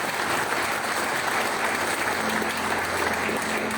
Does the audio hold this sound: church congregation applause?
yes